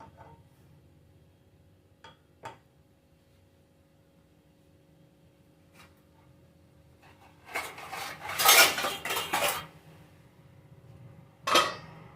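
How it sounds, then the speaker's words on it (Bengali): A wok is set on a stove and pots clatter nearby while Bengali fish is being cooked: a few faint clinks early, then a louder burst of metal clattering and a final sharp clank, with no talking. "কড়াই বসিয়ে দিয়েছি উনুনে"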